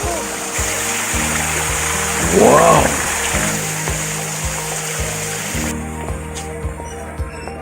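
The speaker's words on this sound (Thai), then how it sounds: "นี่พามาดูน้ำตกนี่ไง" A waterfall at a farm café in Chiang Mai gives a steady rushing hiss throughout, with music playing and a short spoken exclamation over it.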